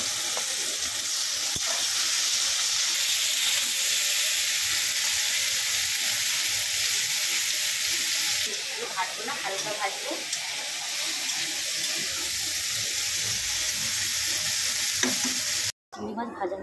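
Prawns coated in salt and turmeric fry in hot oil in a kadai, giving a steady, loud sizzle and hiss throughout, with brief clatters of stirring midway.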